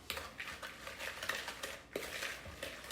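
A spoon stirs chopped pecans in a bowl, giving light, quick clinks and scrapes in an irregular rhythm, close but quiet, with no voices.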